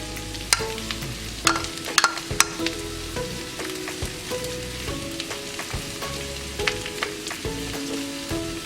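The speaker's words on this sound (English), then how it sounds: "I'm going to let this saute for about 10 minutes until the onions are nice and translucent, a little bit brown, not burned" Two large chopped onions sauté in a pan over medium heat, crackling and sizzling steadily while a utensil scrapes and taps in irregular strokes, close and clear with no voices.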